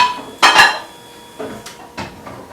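Metal pans clatter in a home kitchen while another pan is fetched, a loud double clank followed by a few softer knocks and clinks spaced apart.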